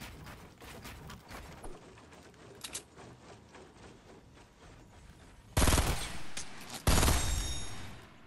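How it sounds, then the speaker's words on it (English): Fortnite gunfire on a console match: quieter scattered shots and game noise, then two sudden, loud bursts of rapid automatic fire close together near the end, with no voices. "People love shooting me from the back."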